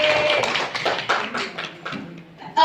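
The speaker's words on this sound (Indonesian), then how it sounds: "boleh tepuk tangan untuk MC kita" Audience applause at a business briefing, uneven clapping from a smallish group with irregular bursts that rise and fall over a couple of seconds.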